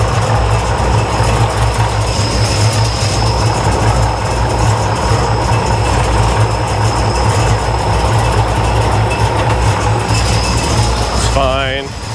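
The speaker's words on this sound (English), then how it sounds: "this motor's noisy" Noisy motor of a Nomad car running, a loud steady droning engine hum with a constant low rumble, heard close up without a break.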